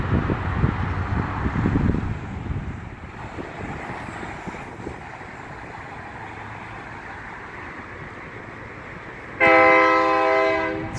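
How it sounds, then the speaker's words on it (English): A train rumbles past with wind buffeting the microphone, then a loud, sustained horn blares near the end. "Sorry about the train."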